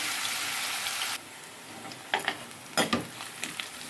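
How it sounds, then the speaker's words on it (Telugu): Curry pieces frying in a pan and stirred with a spoon, a steady sizzle for about a second, then quieter scraping strokes with a few sharper clatters against the pan. "బ్రౌన్ కలర్ వచ్చేలా కలుపుకుందాం"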